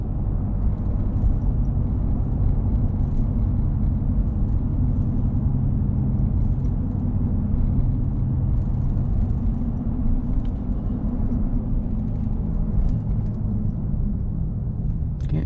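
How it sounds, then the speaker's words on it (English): A big dented red Dodge with a Hemi engine drives along, its low engine rumble and road noise steady and close throughout, with no voices over it. "Remember, I got some Hemi power here."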